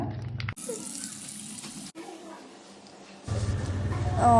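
Water runs from a kitchen tap in short bursts, splashing into a sink, with brief breaks between flows.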